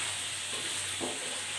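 Vegetables for ginisang gulay being stirred in a frying pan, a soft steady sizzle with faint scraping of the spoon, close and low in level, no talking.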